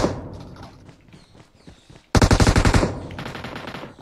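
Automatic gunfire in the video game PUBG Mobile: a few scattered shots first, then a loud, rapid burst of machine-gun fire about halfway through that trails off, with no speech.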